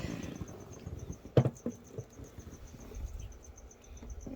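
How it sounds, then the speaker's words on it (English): Feeder cricket in a gecko enclosure, a faint steady rhythmic high chirp repeating throughout, with soft rustling and one sharper knock in the middle. "there's that stupid cricket"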